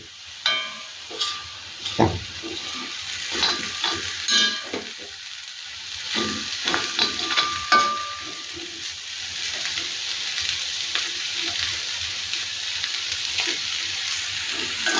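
Clams fry with curry leaves in a pan, making a continuous close sizzle and hiss; irregular stirring scrapes and clinks punctuate the first half before the frying settles into an even crackle.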